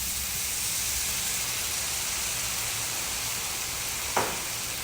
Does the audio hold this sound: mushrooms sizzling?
yes